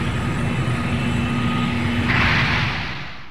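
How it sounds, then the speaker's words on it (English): Jet core booster in a Gundam video game taking off from a runway, a loud continuous roaring engine rush that swells with a brighter hiss near the end before fading slightly. "A jet core booster has just been spotted taking off from the runway."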